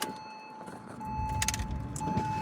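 A flood-salvaged Porsche Boxster's power window motor whirs steadily as the glass moves, close and moderately loud inside the cabin, with a faint electronic tone in the background.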